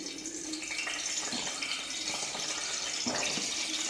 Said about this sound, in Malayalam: ഇനി നമുക്ക് ഈ ചൂടായ വെളിച്ചെണ്ണയിലേക്ക് നാരങ്ങ ഇട്ട് കൊടുക്കാം.